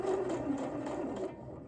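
A sewing machine stitches fabric for a dress, giving a brief, rapid, even mechanical whirr close by. It eases off near the end of a short burst.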